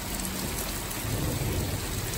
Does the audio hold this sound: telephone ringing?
no